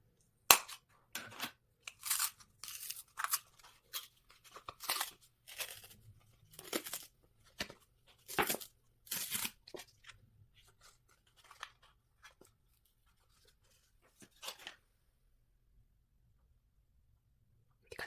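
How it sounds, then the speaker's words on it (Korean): Scissors snipping around the rim of a paper cup holding coffee-grounds clay, a series of close, crisp cuts and crinkles in irregular bursts, then quiet. "뜯기 쉽게 하기 위해서 여기 윗부분을 가위로 잘라줄게요."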